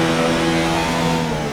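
A race car engine in a racing video game holds a steady high-revving drone at full throttle through a bend, loud and continuous with no voices over it.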